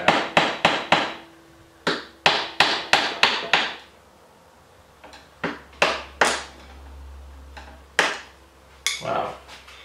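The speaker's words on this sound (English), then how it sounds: "gently tap it loose" A hammer taps a spanner collar loose on a Honda Africa Twin motorcycle's triple tree, sharp metallic strikes coming in quick clusters of four or five, then scattered single blows with pauses between.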